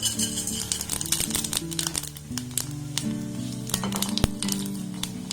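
A dry red chilli and a half spoon of five-spice seeds hit hot oil in a pan, giving a steady close crackling sizzle with scattered sharp pops and faint clinks throughout.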